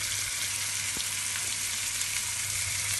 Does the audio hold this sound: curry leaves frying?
yes